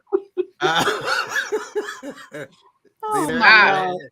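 Vocal bursts and harmonic sputtering from someone choking on spit, then a harsh, strained burst of coughing toward the end after a brief pause.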